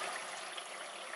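Blended baby prawns mixed with water poured into a cooking pot of Ghanaian shito chilli oil, a soft continuous trickle and splash of liquid, faint and close, with no voices.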